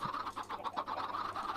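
Many chickens in a crowded Minecraft chicken farm cluck continuously and overlap in a busy, steady chatter of short calls, close and moderately loud, with no voices.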